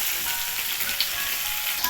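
Chopped onion sizzles in hot oil with dried red chili and a five-spice tempering, a dense, even, close-up hiss with no talking.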